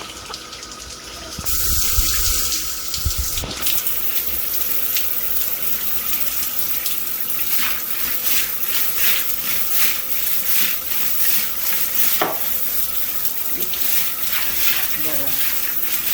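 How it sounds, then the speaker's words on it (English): A spray of water rinses down a shower stall after black mold has been cleaned off the walls and caulking. The gush stays steady and close throughout, with a brief clatter near the start. "One more rinse all the surface and we are done with this shower."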